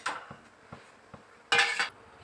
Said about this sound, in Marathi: ताट बाजूला काढून ठेवते